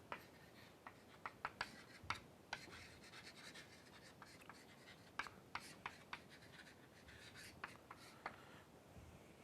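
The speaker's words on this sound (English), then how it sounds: "write down the proof now." Handwriting a mathematical proof, with soft close scratching and tapping strokes of a pen or chalk coming in quick irregular bursts, quiet and alone.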